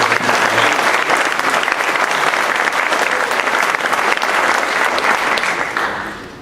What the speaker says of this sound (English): One more round of applause for all 14 of our preparators